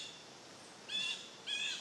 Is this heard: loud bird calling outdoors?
yes